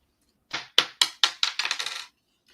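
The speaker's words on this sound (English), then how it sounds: "Going ahead to roll my dice" Dice roll and clatter across a hard surface during a live reading, a quick series of sharp rattling impacts that bounce, speed up and settle within about a second and a half.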